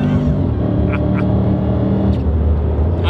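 A deep, throbbing McLaren SLR sports car engine rumbles loudly and continuously close by, with a few faint higher chirps over the steady growl.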